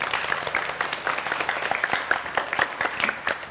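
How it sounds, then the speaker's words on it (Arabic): A studio audience at a game-show challenge applauds two teams that tied, a dense burst of clapping that stays fairly even for a few seconds without talk. "تصفيق عليهم"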